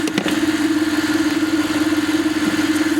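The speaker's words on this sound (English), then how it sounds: "And I don't know what that ticking sound is. It might just be my timing belt." A Lexus LS400 engine idles close by with a steady low hum and a faint rapid ticking running through it, with one or two small knocks near the start.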